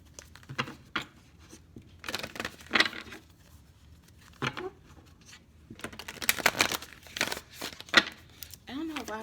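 Quick bursts of papery card shuffling and riffling, close by, in several short runs with pauses between them.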